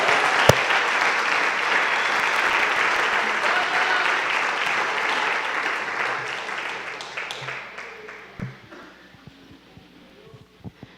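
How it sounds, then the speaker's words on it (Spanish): Church congregation applauding: dense, steady clapping that fills the room, then gradually thins and fades over the last few seconds, with a few scattered claps left at the end. "Denle un fuerte aplauso al Señor."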